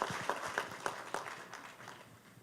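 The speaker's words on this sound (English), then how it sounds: "let's give them a round of applause" An audience at a fundraiser event gives a short, fairly faint round of applause, with distinct claps fading out over a couple of seconds.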